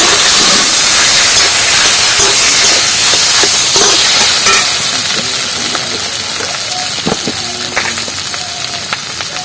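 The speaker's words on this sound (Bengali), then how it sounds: "এবার আলুগুলো তেলের ডিমের মধ্যে দিয়ে দিচ্ছি" Potatoes dropped into hot oil with egg in a pan give a loud, steady hiss of sizzling that fills the whole stretch, with scattered clinks and pops over it, gradually easing slightly toward the end.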